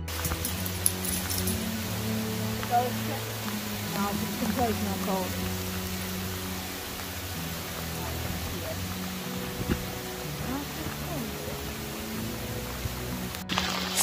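Warm rain falls steadily over a treetop walkway in Ždiar, Slovakia. It makes a dense, continuous patter for the whole stretch while people talk nearby.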